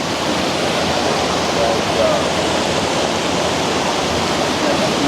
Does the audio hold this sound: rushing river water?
yes